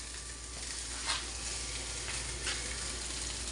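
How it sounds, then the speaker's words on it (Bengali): Dried fish (shutki) frying in a pan, mixed with other ingredients: a continuous faint hissing sizzle with a couple of brief stirring swishes, quiet and steady throughout. "শুটকি আবার ফ্রাই করতেছি পুরা মিক্স করে"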